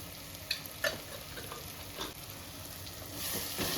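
Fenugreek, cumin and pepper powders fry in oil for a Jalebi fish kulambu, a steady close sizzle broken by a few sharp clicks of stirring.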